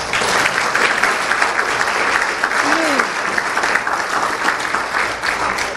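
Loud, warm crowd applause fills the room welcoming the CEO of HEM Suriname NV to a business talk in Suriname, dense steady clapping throughout with a few voices faintly heard beneath it.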